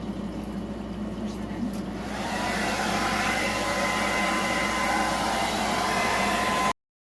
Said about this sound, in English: So then you're going to take your dryer, put it on high